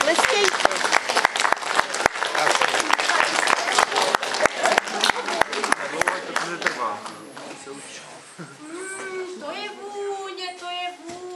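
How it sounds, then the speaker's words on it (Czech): A crowd of children claps in a quick, dense burst of applause that gradually thins out, with voices and a wailing, whimpering child's cry rising over the fading clapping. "Děcka, tleskejte."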